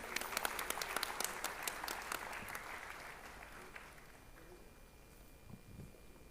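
Applause from a formal ceremony audience welcoming a guest, lively at first and then thinning out and fading to quiet, with a few low thumps near the end.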